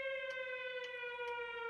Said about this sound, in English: That Christmas was rhythmed by the sirens from the curfew.